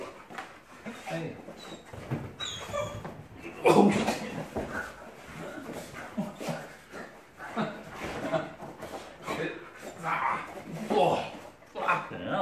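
Puppy barking and whimpering close by in a home, brief yips and whines scattered under near-constant cheerful human talk and laughter.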